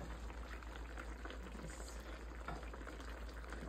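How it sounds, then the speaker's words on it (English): Vegetables steam in a pot of water, giving a steady, continuous hiss and bubbling that stays even and fairly close throughout, with no talking. "Just keep putting water over it so they could steam nicely."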